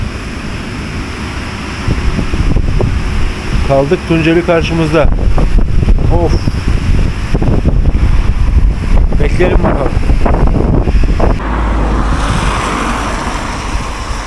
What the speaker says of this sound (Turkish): yandan vuruyor rüzgar